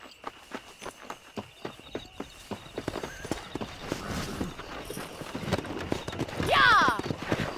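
Horse hooves clip-clopping steadily in Red Dead Redemption as a rider sets off, quickening toward a gallop, with a horse whinny near the end and voices talking over it.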